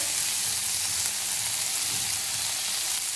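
Large-cut chopped onion sizzling in hot oil in a pan, a loud, steady, close hiss of frying with no talking.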